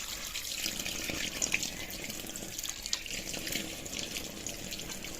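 Tap water runs steadily into a sink while a child's face is washed, a continuous close splashing wash with small drips and no talk.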